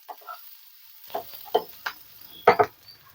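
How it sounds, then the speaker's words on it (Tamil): Onions sauté in a pan for a Tamil egg kurma kulambu, with a few scraping stirs and soft sizzling that come in short, separate bursts against a quiet background. "இப்போ வெங்காயம் வந்து லைட்டாக வதங்கட்டும்."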